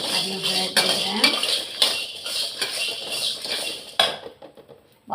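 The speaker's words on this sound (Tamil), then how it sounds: "ஒரு 5-6 பழம் சாம்பார் வெங்காயம் போட்டுக்கிறேன். அதையும் ஃப்ரை பண்ணிக்கிறேன்." A metal spoon clatters and scrapes in a pan as sambar onions are stirred while frying for a Chettinad fish kulambu, close and fairly loud, with several sharp clinks, then settling into quieter scraping before a final knock.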